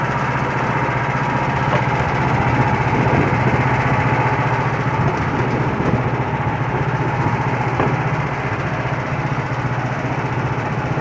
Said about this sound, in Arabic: هذه ماكينة عصير متحركة كما نشاهد او متنقلة